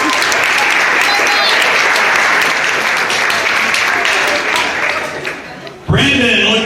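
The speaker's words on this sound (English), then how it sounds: "Give her a nice round of applause" An audience at a hypnotist show breaks into loud, sustained applause that fades briefly near the end before another voice cuts in.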